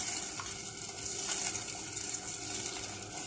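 Oil heating in a pan for crispy choux fritters gives a steady, close sizzle with a faint bubbling hiss that runs evenly through the whole moment and has no voices.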